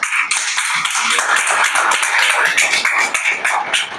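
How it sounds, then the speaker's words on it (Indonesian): Audience applause at a focus group discussion on a criminal procedure bill held at a university campus: dense, steady clapping from many hands filling the room for about four seconds, loud and continuous with no voices over it. "tepuk tangannya."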